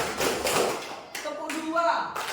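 Rhythmic clapping from a group of children in a classroom clap-count game, several sharp broadband claps mixed with children's voices and an adult speaking.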